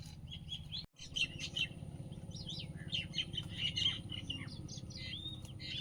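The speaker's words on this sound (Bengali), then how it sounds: "এই যে শালিক পাখিগুলোর কিছু দেওয়া হয়নি এখনো কিরম ঝগড়া করছে দেখো" Mynas chatter and squabble in a busy mix of harsh chirps and whistles over a low hum, after a brief sudden drop in sound.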